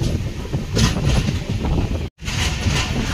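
A train rolling through Assam near Kamakhya gives a steady, close rumble and rattle with wind buffeting the microphone, cut by one brief moment of near silence.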